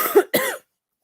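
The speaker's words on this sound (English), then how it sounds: "Tap that little mute mic button when you cough" A person gives a short, sharp two-part cough close to a microphone, then silence follows.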